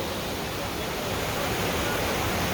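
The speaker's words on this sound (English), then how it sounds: "That's the Hope River." The Hope River in Jamaica's St. Ann runs in flood after heavy rainfall, a loud, unbroken roar of rushing water heard close by.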